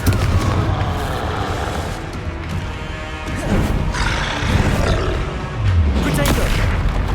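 Confringo spell explosions in the Hogwarts Legacy video game: several heavy booms and crashing blasts burst out over a busy battle, with a voice talking alongside.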